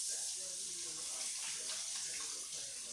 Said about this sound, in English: let me get my hands for a quick wash.